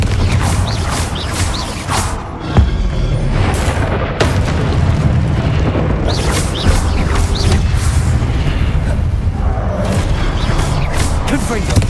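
Repeated booming blasts of the Confringo fire spell in the Hogwarts Legacy video game, loud and dense, one burst after another over a rumbling battle mix, with a voice shouting the spell between them.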